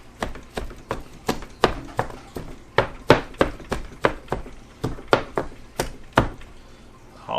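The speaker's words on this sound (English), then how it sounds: "we're just going to chop this up using our big knife here" A big knife chops cooked chicken meat on a board, about twenty sharp, evenly spaced thuds in a steady rhythm, close and clear, with no talking.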